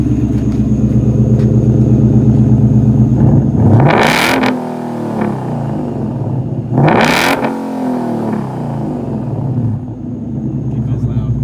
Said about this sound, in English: You gotta rev it.